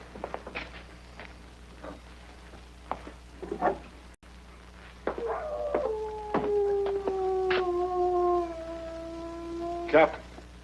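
A dog howls in a long, wavering, drawn-out tone near an outdoor tent area, with scattered clicks and soft knocks before it and a voice speaking in the background.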